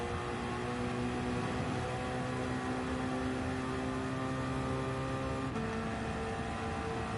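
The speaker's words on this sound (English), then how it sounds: "Loving the sound of the old V8 turbo engine." A Toyota GT1 race car's turbocharged V8 engine at Le Mans in Gran Turismo 7 holds a steady, droning note with a slight pitch shift about two-thirds through, continuous and fairly close with no talking.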